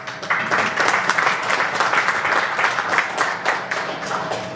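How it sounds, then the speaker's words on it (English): A business conference audience gives a speaker a moderately loud round of applause, with many hands clapping in a steady, continuous patter and a few sharper claps standing out. "Please round of applause."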